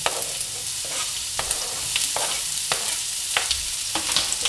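Chopped onion fries gently in hot oil in a pan, giving a steady close sizzle with occasional scraping stirs and small crackles, and no talking.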